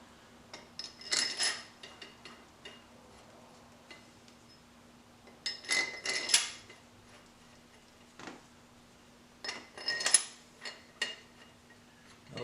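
Long oiled bolts being started into the cylinder head of a 2000 Mustang, giving quiet, close metallic ticks and clinks in short clustered bursts separated by near-silent gaps.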